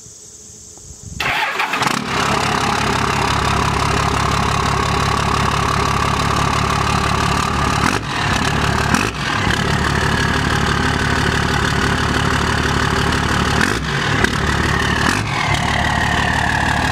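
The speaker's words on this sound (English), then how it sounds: "Manifold gasket leak, it sounds like, which is an easy fix." A truck engine with a leaking exhaust manifold gasket starts up and settles into a steady, loud, close idle with an even, continuous rumble, with a few brief dips in the sound along the way.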